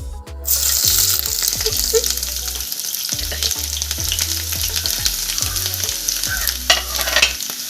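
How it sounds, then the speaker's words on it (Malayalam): Chopped garlic frying in hot oil in a pan for a mango pickle, a loud continuous sizzle with repeated scraping strokes of a spoon stirring throughout. "അതിലേക്ക് അരിഞ്ഞു വെച്ച വെളുത്തുള്ളി ഇട്ട് കൊടുക്കാം"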